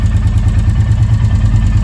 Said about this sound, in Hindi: तो गाइस अभी इंजन से आपको कुछ आवाज़ नोटिस हो रही है,